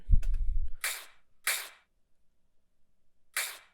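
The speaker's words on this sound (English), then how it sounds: "I took a sample of me dragging a can on the ground with my foot" A dull low thump, then three bright, crisp metallic hiss bursts from a can dragged on the ground, decaying quickly like an open hi-hat, spaced apart with silence between.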